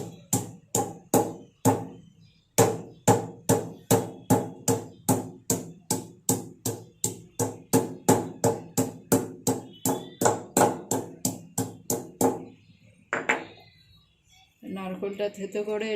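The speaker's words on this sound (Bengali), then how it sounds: "ডাল বেটে এই নারকেলটা থেতো করে" Coconut being pounded and crushed by hand for lentil fritters: a steady run of about thirty sharp, even thuds close by, then a pause and brief rustling at the end.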